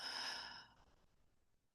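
Slow, deep exhale through the nose or mouth during a guided meditation, a soft airy breath that fades over about a second, close and faint, heard alone.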